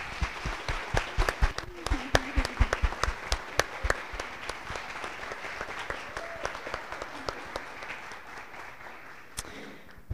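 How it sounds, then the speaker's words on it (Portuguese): An audience at the opening of a university geography week at UFVJM applauds, a burst of distinct, fairly close claps building quickly and then tapering off into scattered clapping. "eu quero uma salva de palmas para eles"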